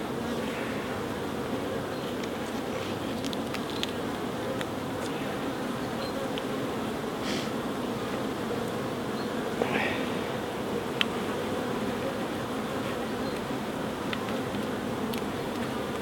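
Honeybees buzz steadily around an open hive where workers tug sticky red propolis from each other's back legs, a dense close swarm hum running unbroken with occasional nearer individual passes.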